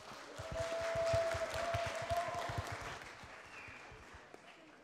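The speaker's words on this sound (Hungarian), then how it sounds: "Nagy tapsot kérünk nekik is." A crowd claps and applauds steadily, swelling and then slowly fading, with a few cheers mixed in.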